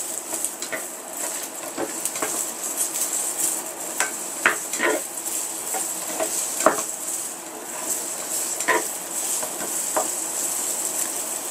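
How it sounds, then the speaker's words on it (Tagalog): Potatoes frying in cooking oil in a pan, a continuous bright sizzle with scattered scrapes and knocks from stirring at close range. "Yan, i-fry lang natin sila."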